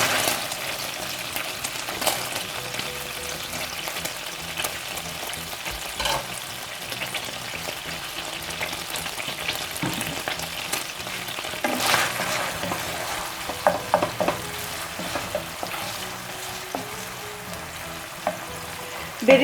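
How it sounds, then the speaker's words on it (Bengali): Thinly sliced onions frying in oil for beresta, a soft continuous sizzle with occasional stirring clinks and scrapes, fairly faint and steady throughout. "এরপর আমি এই একই তেলে একটু বেরেস্তা করে নেবো"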